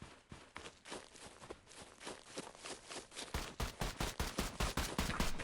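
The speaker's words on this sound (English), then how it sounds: "Sonny, who's shooting?" Rapid gunshots ring out in a sharp, irregular series, growing denser and louder toward the end with several strong close cracks.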